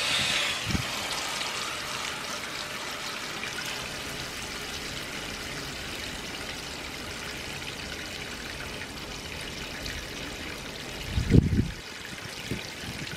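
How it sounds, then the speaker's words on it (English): Water drains out of a radiator as it is flushed, a steady close trickling and pouring stream that runs the whole time, with a brief clunk or splash near the end. "I'm gonna let the water out."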